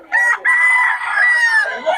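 A rooster offered for sale at a flea market crows loudly and close by, a drawn-out, strained call broken by one short gap, heard on its own.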